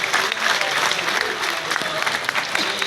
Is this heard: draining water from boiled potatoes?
no